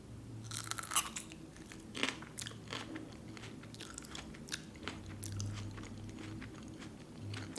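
Close, crisp crunching bites and wet chewing of a heatless Nobasco pepper, repeated in irregular bursts over a quiet background.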